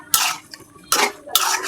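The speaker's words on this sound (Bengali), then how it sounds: "লাউটা লাড়া দিয়ে দিলাম" A utensil stirs bottle gourd in a cooking pot, giving three loud, close scraping bursts separated by short pauses.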